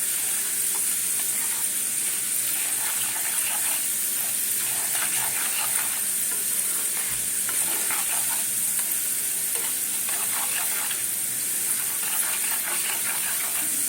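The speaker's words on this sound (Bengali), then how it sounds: "এইভাবে কন্টিনিউ নাড়তে হবে" Chana dal frying in a pan for homemade dalmoth, stirred without pause, giving a dense, unbroken hiss of hot oil with soft repeated scraping layered through it, steady and close throughout, with no speech.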